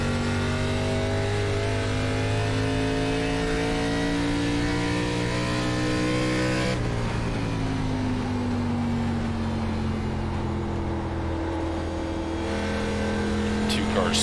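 Stock cars racing in an iRacing NASCAR ARCA Series event at New Hampshire Motor Speedway, a loud sustained engine drone with shifting pitch and a pass around midway, continuous with overlapping cars.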